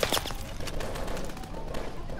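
Weapon gunfire in the video game Call of Duty: Advanced Warfare: a rapid burst of sharp shots, mostly at the start, then sporadic cracks over a dense, noisy battle background.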